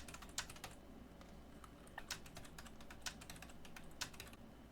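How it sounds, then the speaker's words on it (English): Quiet, steady typing on a computer keyboard, a rapid run of light key clicks with occasional louder taps, close and alone with no voices. "Take any one word and just type it several times using the correct fingers."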